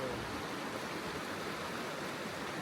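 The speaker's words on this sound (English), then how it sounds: "This is Silver Pass Creek." Steady rushing of Silver Pass Creek in the high Sierra along the John Muir Trail, a dense, even wash of flowing water with no breaks, close and fairly loud.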